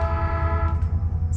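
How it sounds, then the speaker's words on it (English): Slow-moving trains at a gate crossing sound their horns, a sustained, loud, steady horn tone held over a deep rumble of rail traffic. "the trains are going by slow and they're honking a lot"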